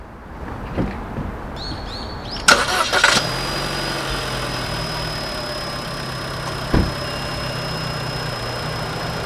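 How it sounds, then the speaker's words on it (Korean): A gasoline Chevrolet Cruze 1.4 turbo engine cranks briefly and catches, then settles into a quiet, steady idle hum, with a faint high whine and a single soft knock later on. "자, 시동 소리 한번 들으시죠"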